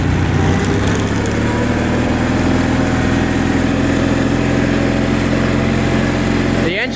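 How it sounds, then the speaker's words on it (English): John Deere 316 lawn tractor engine running steadily at close range, a loud continuous drone with a low rumble, sounding slightly rough from a carburetor that still bogs a little. "The engine still bogs a little bit, but I think a carburetor rebuild will fix that."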